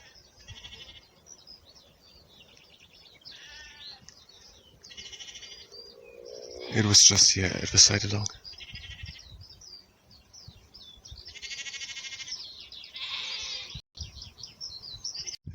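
Sheep bleat in a field, several calls at moderate distance with one louder cry in the middle, while a person talks briefly over the outdoor background.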